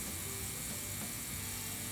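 Dremel rotary tool mounted in a drill press, driving a drill bit into a wooden trestle bent; steady broadband high-pitched whir and grinding hum, continuous and close, with no talking.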